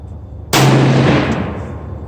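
Savage rifle fired once at a 100-yard range: a single loud, sharp report after a quiet moment, followed by a long echoing decay.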